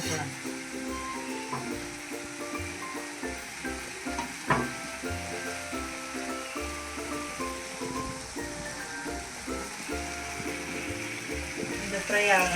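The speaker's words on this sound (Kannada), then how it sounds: "ಎಣ್ಣೆ ಬಿಡೋವರೆಗೂ ಫ್ರೈ ಮಾಡ್ಕೊಳ್ಳೋಣ." Bread sizzles steadily as it fries in ghee in a pan for a bread roast, a continuous soft crackle with occasional pops, heard beneath background music and some talking.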